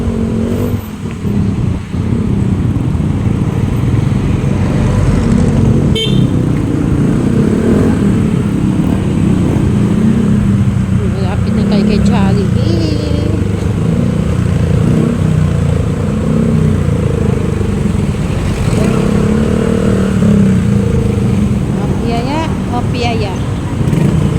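A motor tricycle runs along the road, its engine droning loud and steady throughout with passing traffic mixed in and no break in the noise.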